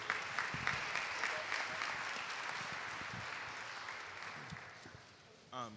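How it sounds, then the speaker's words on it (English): Audience at a panel discussion claps for the panelists, a fairly faint, steady wash of many hands over several seconds that gradually tapers off, with a voice emerging at the end. "Please give Jakarta and mine another round of applause"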